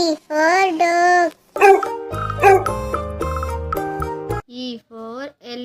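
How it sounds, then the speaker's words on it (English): A cartoon dog barks and yips in short bursts inside a children's phonics song, with music and sung voices close around it. "D for dog."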